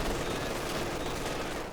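Dense, continuous gunfire and battle noise from Company of Heroes 2, with a machine gun rattling alongside Panzer IV tanks, loud and sustained throughout with no pauses.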